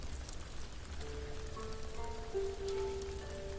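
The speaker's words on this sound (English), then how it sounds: "And it's raining." Steady rain falls in the video game Ghost of Tsushima, a constant close hiss of drops with soft, sustained musical tones rising underneath partway through.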